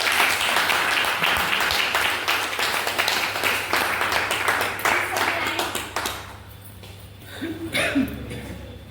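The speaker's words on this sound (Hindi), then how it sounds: "आप सभी की जोरदार तालियों के बीच" A crowd claps loudly and continuously for about six seconds, then the applause fades into a few scattered claps and room noise.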